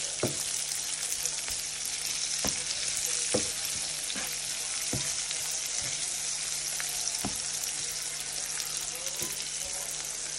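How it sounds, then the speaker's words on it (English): Bacon frying and browning in a pan, a constant bright crackling sizzle with occasional sharp pops and spatters, heard close and on its own without talk. "We went ahead and added some more bacon. I'm just cooking it down and let it brown."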